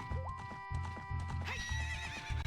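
Horse in the Ocarina of Time video game whinnying over steady clip-clop hoofbeats and game music, a high neigh rising near the middle, with galloping rhythm continuing throughout.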